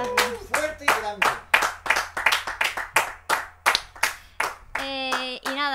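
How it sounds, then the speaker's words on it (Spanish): A small audience claps after a live jazz trio set in a studio, a close, uneven patter of hand claps that fades, followed by a voice speaking at the end. "Y para Marina, un grande aplauso"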